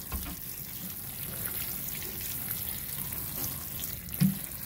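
Tap water, left to sit a day, poured into a worm composting bin, about half a gallon, gives a steady, continuous rushing and trickling wash that holds level throughout, with one brief louder splash near the end.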